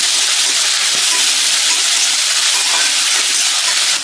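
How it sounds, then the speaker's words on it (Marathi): Finely chopped onion sautéing in a pan until lightly golden, for a rava matar kachori filling; a loud, continuous, close-up sizzling hiss with a faint clink near the start. "तर आपण आता हा कांदा परतवून घेऊया"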